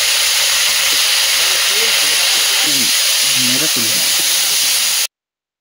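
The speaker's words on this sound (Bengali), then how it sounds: "ওইগুলোকে ওই একই তেলের মধ্যে দিয়ে আর একটু ভেজে নেব" Broccoli fries in mustard oil in a pan with a loud, continuous hissing sizzle, while a voice talks over it before the sound cuts off abruptly.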